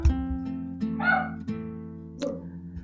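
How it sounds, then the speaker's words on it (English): Dogs barking at a home with a kitchen in a Tibetan household, short yips and whimpering calls recurring over a steady low background hum, fairly distant and moderate in level. "dogs are barking and all"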